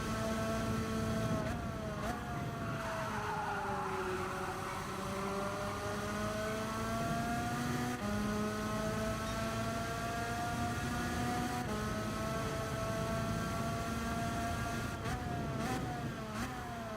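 A racing car engine in Gran Turismo 7 drones steadily, its pitch sliding up and down through gear changes and throttle lifts during a time-trial lap, with a few sharp shifts along the way.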